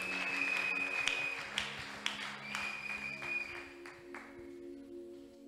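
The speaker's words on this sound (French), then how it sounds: "Nous acclamons très fort la parole de Dieu" A church congregation applauding, a soft ragged patter of clapping with a few sharper claps, heard from a distance and fading out toward the end.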